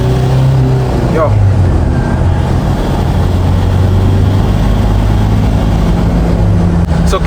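A Toyota Quantum 2.5D taxi minibus cruises at highway speed, a loud, constant engine drone and road roar heard from inside the cabin without pause.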